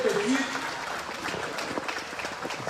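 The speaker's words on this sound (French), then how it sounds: "Il y a de quoi applaudir cette grande avancée" An audience at a Congo gala evening in Madrid applauds during a minister's speech, a dense steady clapping with speech audible over it.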